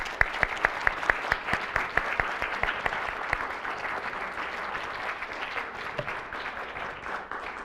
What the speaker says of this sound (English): How about another round of applause for Professor Roberts?